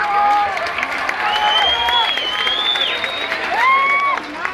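A concert audience in a Mexico City neighbourhood applauds the technical sound crew, steady clapping and cheering with whistles, loud and sustained through the short stretch.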